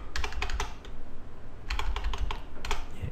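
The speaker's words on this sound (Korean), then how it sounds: "vi를 입력하고요" Keys on a computer keyboard clatter in two quick bursts of typing as a terminal command is entered, close and crisp with a short pause between the bursts.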